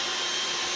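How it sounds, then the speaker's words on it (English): A Eureka Light Speed cordless vacuum cleaner runs with a loud, steady, high-pitched whirring motor hum close by, and no other sounds. "light speed wireless vacuum cleaner."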